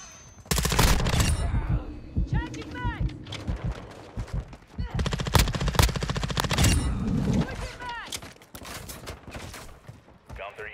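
BAS-P submachine gun with a 30-round magazine firing in Modern Warfare 2, rapid bursts of sharp automatic gunfire alternating with short pauses, mixed with game effects and a player talking over it.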